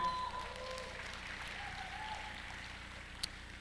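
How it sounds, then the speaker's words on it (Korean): An audience applauds at a panel discussion during a startup demo day, giving faint, steady clapping that sounds distant and diffuse and continues the whole time. "바로 박수 쳐주세요."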